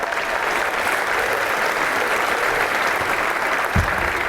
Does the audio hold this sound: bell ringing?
no